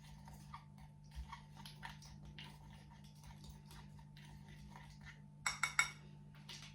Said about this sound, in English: All right, so we're going to stir these together.